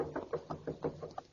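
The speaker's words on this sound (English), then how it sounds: "Knocking. On the door over there." Rapid knocks on a door in an old 1941 radio drama, about seven muffled raps in an even rhythm, slightly distant, with no voices over them.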